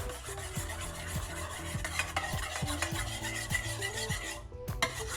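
Lemon juice and mustard being stirred into a chicken salad dressing in a bowl, a steady close-up scraping and swishing with rhythmic strokes of the utensil throughout, no talking.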